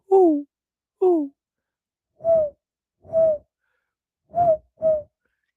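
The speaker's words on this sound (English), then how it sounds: "That's when the strange owl like vocalization started" Six strange owl-like hoots come in spaced pairs in a quiet night setting, soft, breathy and fairly close, with two higher swooping calls first and four lower, duller hoots after.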